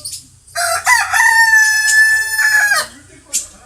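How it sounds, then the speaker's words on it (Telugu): A rooster crowing loudly and close by, one long drawn-out cock-a-doodle-doo with a short cluck afterwards, over a faint low background hum. "బాగా అరుస్తుంది కోడి"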